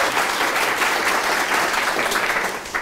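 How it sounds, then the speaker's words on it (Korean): A company audience claps together at a Korean factory that makes Olympic archery bows, a dense, fairly loud round of applause that stays even for about three seconds before tapering. "박수 부탁드리겠습니다"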